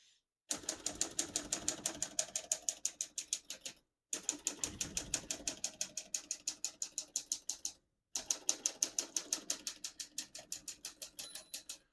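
Typing on a 1936 Corona Standard Flat Top portable typewriter produces three bursts of rapid, evenly paced mechanical key strikes, close and crisp, separated by short pauses.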